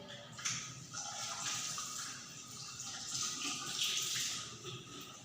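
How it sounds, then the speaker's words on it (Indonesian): Water runs steadily from a tap with a soft, hissing splash, continuing evenly throughout with slight swells and a few light knocks, no talking. "sebelum mencuci tangan kita basahi kedua tangan dulu dengan air mengalir"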